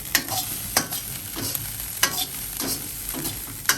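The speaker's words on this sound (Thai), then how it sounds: "เขาก็ผัดจนข้าวแห้งสนิทนะคะ" Fried rice with salted fish being stir-fried in a pan, a spatula scraping and tossing in repeated strokes roughly every half second over a steady close sizzle, with no voices.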